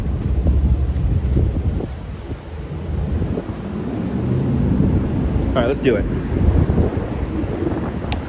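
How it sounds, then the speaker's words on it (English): Wind buffets a microphone outdoors on a live walk through downtown Brooklyn and Lower Manhattan, a loud, low, steady rumble with gusts, while someone speaks briefly over it. "So sorry about the wind noise."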